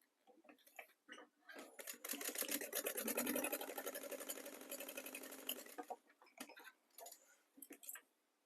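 A sewing machine stitching fabric down both sides of a bow centerpiece at an eighth-inch seam, starting with short bursts, then running in a fast, steady whir for several seconds before stopping in brief spurts.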